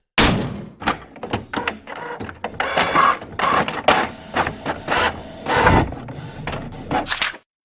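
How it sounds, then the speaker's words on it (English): A printer printing out a page in a comedy sketch, heard as a run of busy mechanical clunks, whirs and thunks of moving parts, fairly close and loud, with no talk. "Hold on, I'm printing it out for you."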